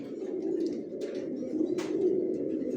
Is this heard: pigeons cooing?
yes